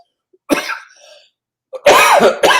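A sharp cough close up, then a short pause and a louder, harsher burst of coughing that trails into one more cough.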